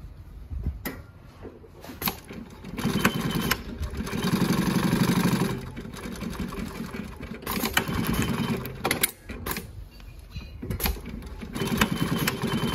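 JUKI LU-1510N-7 walking foot industrial sewing machine stitching through eight layers of material, a steady fast mechanical chatter that holds at a constant pace and runs loud and close for the whole stretch.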